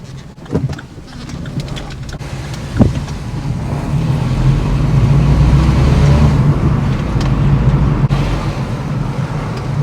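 A Vauxhall Corsa SR engine with an induction kit revs up with a rising, droning roar, boost and whooshing intake noise, loud and close, with some rattling and wind buffeting early on.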